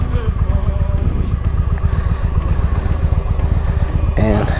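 Heavy cruiser motorcycle being ridden, a loud steady engine rumble with wind buffeting throughout, a short mechanical shift near the end.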